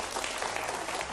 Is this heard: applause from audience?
yes